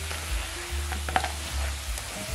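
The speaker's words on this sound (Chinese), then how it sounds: "接着翻炒均匀，翻炒到每一个鸡翅都裹上甜辣汁" Fried chicken wings being stir-fried in a sticky sweet chili sauce in a pan make a soft, continuous sizzle broken by a few brief scraping and clacking stirring sounds nearby.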